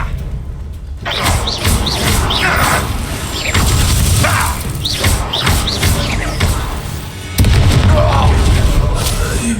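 Confringo fire spell blasts in the Hogwarts Legacy video game, a series of loud booming explosions and crashes amid busy combat noise, with a heavy burst near the end and some character voices mixed in.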